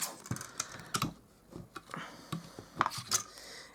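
Trimming a thin sliver off cardstock for a handmade card produces a series of light, sharp clicks and snips at uneven intervals, close and fairly quiet.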